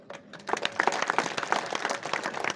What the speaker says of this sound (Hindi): 2 आदमी 4 आदमी ने बजाई तालियां